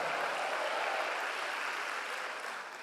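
Church congregation applauding during a Baptist communion service, a steady broad wash of clapping lasting about three seconds and tapering slightly at the end, with no voices over it.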